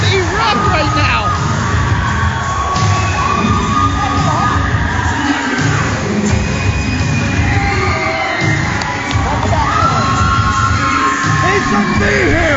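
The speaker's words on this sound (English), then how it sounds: "do you hear this crowd erupt right now?" A packed wrestling arena erupts in loud, sustained cheers, whoops and yells, with high shrieks cutting through the dense crowd noise throughout, and a commentator's voice shouting over it.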